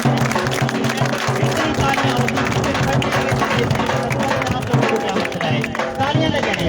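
An audience applauds at the prize ceremony of an All Pakistan cross single-wicket cricket tournament in Chowk Maitla: steady, dense clapping mixed with crowd murmur, with a voice talking over it.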